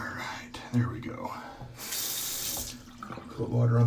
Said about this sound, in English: Cold water on the tube.